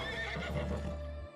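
A horse in the video game Albion Online neighs and whinnies over clip-clopping hooves, close and clear, ending abruptly after about a second.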